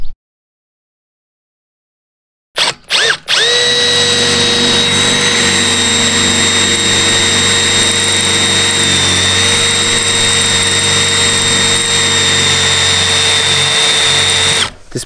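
A power tool cuts through parts during a repair on an Audi, starting abruptly after silence with a couple of short bursts, then running as a loud, steady high-pitched whine for about twelve seconds before stopping.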